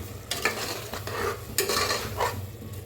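Spiced Maharashtrian masale bhat rice is stirred in a pot, giving a steady scraping and rustling with soft sizzling beneath and a few louder strokes against the metal, close by and with no talk.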